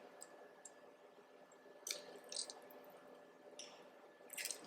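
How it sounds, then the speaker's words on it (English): Tofu squeezed by hand gives off soft wet squishes and drips, quiet and close, in a few scattered bursts with a faint steady hum beneath. "what I'm doing right now is I'm actually squeezing out the tofu"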